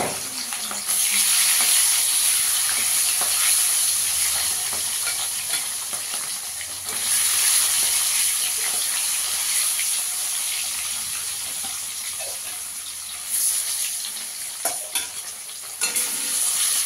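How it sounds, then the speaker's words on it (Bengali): Chela fish fry in oil in a wok, a loud continuous sizzling hiss that surges at the start and again partway through, with scattered spatula clicks near the end; close, no talking. "এবার মাছটাকে ভেজে নেব।"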